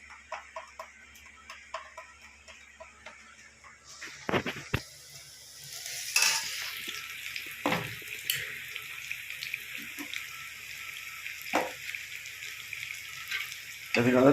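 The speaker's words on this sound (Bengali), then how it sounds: "এদিকে আমাদের পেঁয়াজ ভাজাটা হয়ে গেছে" Onions frying in a pan, a soft continuous sizzle with scraping stirs and a few sharper clatters of the utensil against the pan, heard close and fairly quiet with no talk.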